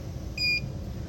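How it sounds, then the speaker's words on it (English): An M20 engraving machine gives a single short electronic beep, a clean steady tone lasting a fraction of a second over quiet room hum. "Wait for the machine to beep."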